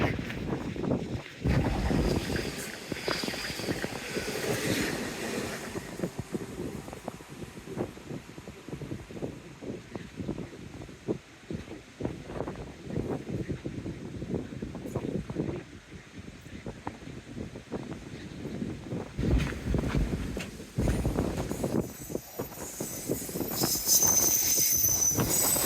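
Gusty wind buffeting a microphone beside a seaside railway line at Dawlish, a steady rushing roar with louder bursts near the start and end, no voices.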